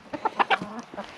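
A hen clucks in a short run of close, fairly loud calls on a small farm, the bird handled while its flight feathers are about to be clipped.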